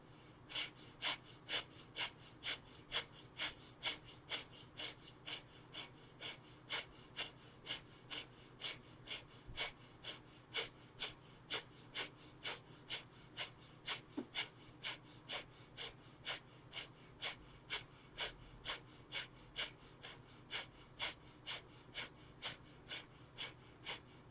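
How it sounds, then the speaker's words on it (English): Slow, steady breaths drawn in and let out during a guided deep breathing exercise, a long even series of soft, close airy pulses repeating at a regular rhythm with no talking. "Take a deep breath in and exhale."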